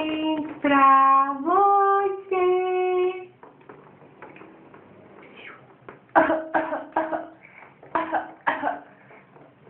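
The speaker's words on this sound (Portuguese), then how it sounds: "uma tossidinha" A baby's small coughs and throat sounds come during bath time, mixed with babbling and vocal noises, close and fairly soft, after a stretch of harmonic singing or voice at the start.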